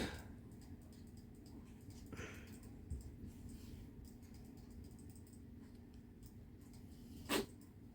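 A single short, sharp sneeze from a chihuahua, brief and fairly close, against a quiet room background.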